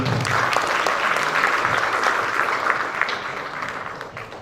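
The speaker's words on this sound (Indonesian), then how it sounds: "sekali lagi tepuk tangan kepada Bapak Ali Mundakir" A lecture audience at a Faculty of Mechanical Engineering public event applauds guest speaker Ali Mundakir, with thick, continuous clapping that stays loud throughout and tapers slightly toward the end.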